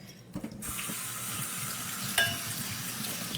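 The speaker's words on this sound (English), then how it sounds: "I'm just going to strain these nuts and give them a little bit of" Soaked nuts are rinsed in a strainer under a running tap, a steady close hiss of splashing water with a clatter near the start and a brief sharper splash partway through.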